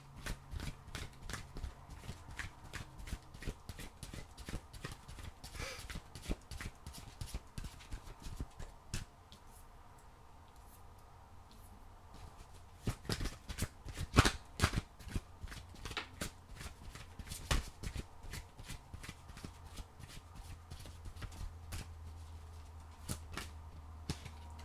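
Oracle cards shuffled by hand in a quiet room, a long run of soft, rapid papery riffles and slaps with sharper flicks and taps scattered throughout, close and fairly faint.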